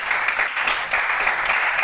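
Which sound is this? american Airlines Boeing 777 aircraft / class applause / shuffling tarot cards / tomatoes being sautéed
class applause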